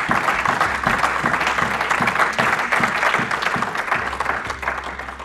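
A church congregation applauds loudly and steadily, dense rhythmic clapping from a crowd that fills the room close by and carries on throughout.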